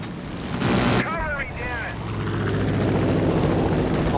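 An enemy plane flies overhead in the video game Far Cry 5, its engine droning steadily as a low rumble beneath brief sharp effects and shifting game noise.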